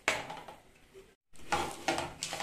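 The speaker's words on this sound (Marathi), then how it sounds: "आता आपण ह्या पाकामध्ये शेंगदाणे ऍड करूया. छान मिक्स करून घ्यायचं." Peanuts being stirred into hot jaggery syrup in a pan with the flame off, a close run of scraping, clinking stirs against the pan with a brief silent gap midway.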